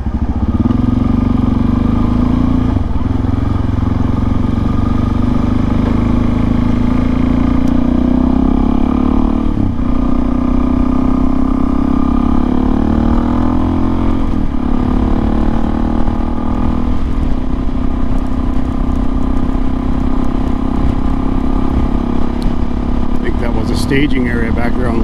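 A Kawasaki KLX 400 dual-sport motorcycle cruises on a highway at around 55 to 65 mph, its engine droning loud and continuous with gentle pitch shifts and steady wind rush.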